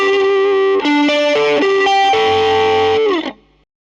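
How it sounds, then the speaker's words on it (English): Electric guitar through a distortion pedal, dialed toward a Les Paul-style tone, playing a few sustained, saturated notes in a short melodic phrase that rings out loud and alone before cutting off. "Let's thicken it up now with a little bit of distortion with my rep pedal."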